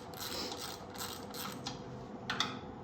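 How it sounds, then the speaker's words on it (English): Ratchet wrench turning out the side bolts on an old Briggs & Stratton engine, a quiet, close sequence of rapid metallic clicking bursts with short pauses between strokes. "Get the side bolts out."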